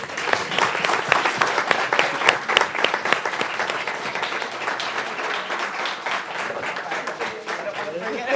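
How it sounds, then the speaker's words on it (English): Dense, sustained applause from an audience at an entrepreneurship competition final's award presentation, continuous and fairly loud for the whole stretch, with some voices mixed in. "One more round of applause."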